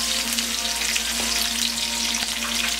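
Onions and garlic sauté in a hot pan with a loud, dense, continuous sizzle that holds steady throughout, over a faint constant hum.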